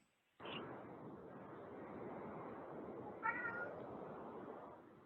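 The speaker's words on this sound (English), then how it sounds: "Somebody's kitties in the background." Cats meow somewhere in the background, with two short meows, one near the start and another about three seconds in, both faint beneath a steady wash of broadband noise.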